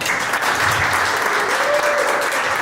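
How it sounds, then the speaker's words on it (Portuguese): Steady audience applause fills the room after a lecture, dense and continuous clapping at close range with a faint voice briefly underneath. "Por favor, aplausos."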